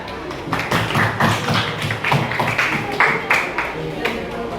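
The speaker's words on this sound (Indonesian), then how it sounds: "Beri tepuk tangan ya." Classroom applause follows a group presentation, a small group of students clapping unevenly and close by for a few seconds while voices talk over it.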